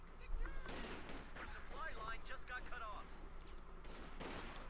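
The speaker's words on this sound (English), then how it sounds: "Sniper fire there in the rifle." Sharp gunfire cracks from a Company of Heroes 2 battle, with several quick shots scattered through the clip, faint and distant, mixed with other battlefield noise and in-game voices.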